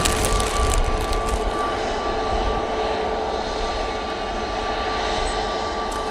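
Jet engines of a Qatar Airways airliner at Manchester Airport make a loud, steady, dense roar with a low rumble and a sustained hum, no talking over it.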